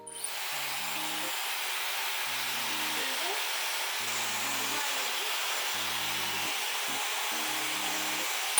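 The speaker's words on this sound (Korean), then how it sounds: "이렇게 해준 다음에 드라이기로" A hair dryer blows on long hair during a wave-styling routine, giving a steady, loud, continuous airy whir throughout, with low murmuring tones faintly underneath.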